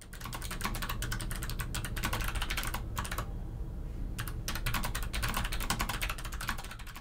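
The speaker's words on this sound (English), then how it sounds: "They feel really nice when typing, and the clicky sound I opted for adds to that mechanical feel." Typing on a Logitech MX Mechanical keyboard with clicky switches makes a dense, fast patter of sharp key clicks, close and steady, with a brief pause midway.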